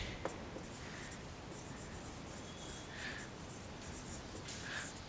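A teacher writes on a board in a chemistry classroom, faint scratchy strokes and taps over low room noise, with no talking.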